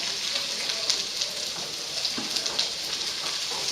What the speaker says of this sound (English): Okay, my garlic and my carrots are now cooking.